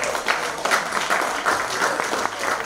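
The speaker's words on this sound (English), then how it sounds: "Give yourselves a round of applause." Audience applause at an awards ceremony, a steady crackle of many hands clapping across the whole stretch, fairly loud and close, with no voices over it.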